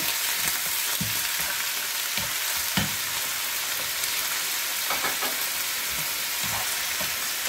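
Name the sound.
tomatoes frying in a pan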